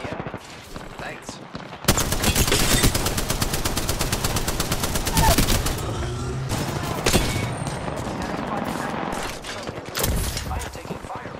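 Sustained automatic gunfire in the Apex Legends video game, loud and close, with long rapid-fire bursts broken by brief pauses and a few heavier impacts.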